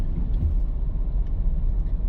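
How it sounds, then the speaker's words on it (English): Road traffic on a wet, rainy day in Santa Cruz, St. Elizabeth, Jamaica: a continuous low rumble of passing vehicles and engines, fairly close, with no voices. "Look on traffic."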